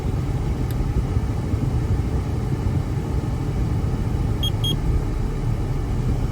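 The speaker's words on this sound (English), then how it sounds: "So the truck's been running for a little bit." A pickup truck engine idles steadily during an air conditioner recharge, a continuous low rumble running throughout with a couple of faint electronic beeps near the end.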